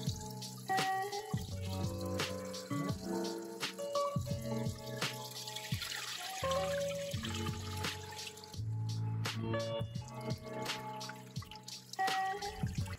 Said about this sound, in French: Donc on va faire la mise en eau en fait